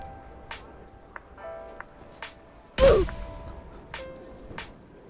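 A single sharp shot from a Barret sniper rifle fired with iron sights in a first-person shooter game, set among faint game beeps and tones.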